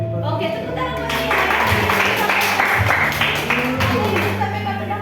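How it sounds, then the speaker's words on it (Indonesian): Classroom applause for a student who played harmonica in a school lesson simulation, a dense wash of clapping from a group that swells and continues steadily for several seconds, with voices mixed in. "Oke, tepuk tangan buat dia."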